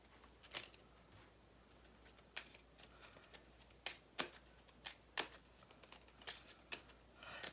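Quiet, close shuffling of a card deck: soft scattered riffles and snaps spread irregularly over several seconds against a faint background.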